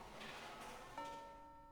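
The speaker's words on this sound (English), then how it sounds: "The homeroom bell rings." Single chime tone from the school homeroom bell in the Fate/Stay Night visual novel, starting abruptly and sustaining a steady ringing tone that slowly fades, heard alone over faint background.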